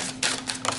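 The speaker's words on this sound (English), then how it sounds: "Let me shuffle good." Tarot cards being shuffled by hand give three short, crisp papery riffling bursts, close up and alone with no talking.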